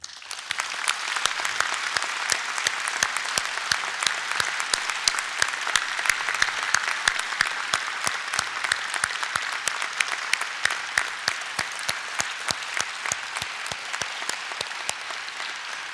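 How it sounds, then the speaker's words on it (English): Applause fills the hall at a college presidential inauguration: steady, dense clapping from a large audience, sustained evenly throughout with crisp individual claps standing out from the wash. "please join me in a final round of applause to everyone who made today possible"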